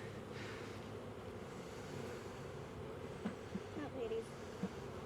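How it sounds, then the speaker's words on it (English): Honey bees hum steadily in a low, faint drone while being moved into a new hive, with a few brief clicks and knocks near the end. "we got bees on the bottom, bees on the top"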